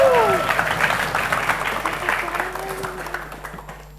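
An audience at a senior high school quick-answer quiz competition in Palembang, South Sumatra, claps loudly, the applause dense at first and gradually fading over about four seconds, with a brief voice at the start.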